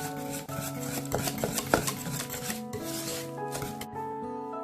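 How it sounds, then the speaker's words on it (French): A spoon scrapes and clinks against a pot while butter is stirred into hot lemon cream for a lemon meringue tart, quiet irregular metallic taps and rubs with no talking. "on va rajouter l'équivalent d'une cuillère à soupe de beurre et on mélange en même temps qu'elle est chaude"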